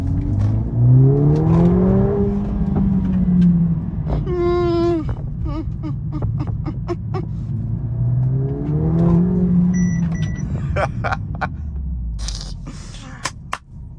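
The engine of a Mercedes-Benz A45 S, a 310 kW, 500 Nm hatchback, rises and falls through gears while driving, droning loud and close. Pops and crackles come from the exhaust, and there is brief talk.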